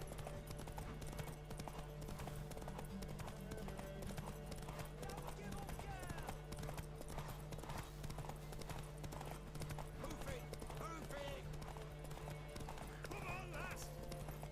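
Galloping horse hooves in The Witcher 3: Wild Hunt during a horse race, a steady rapid clip-clop with an occasional whinny, running under game music and someone talking throughout.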